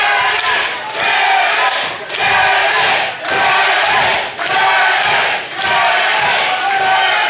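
Wrestling crowd at a fashionista street fight match shouting and roaring loudly and continuously, in repeated swelling waves with brief dips between surges, a dense wall of voices throughout.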